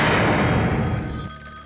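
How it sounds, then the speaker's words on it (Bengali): A telephone rings in a cartoon scene, a bright electronic ring riding over a busy, rumbling music bed that drops away near the end. "আমার ফোন এসেছে"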